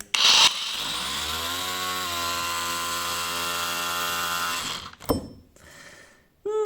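An angle grinder fitted with a renovator attachment runs against an old pine board, a steady loud whining buzz with strong harmonics that holds for several seconds, then cuts out into a clatter and a brief quieter whir.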